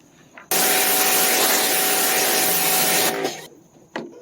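Husqvarna PW 2000 PSI electric pressure washer spraying scum off a door, a loud steady hissing roar with motor hum for about two and a half seconds, cutting off abruptly, followed by a brief faint clatter.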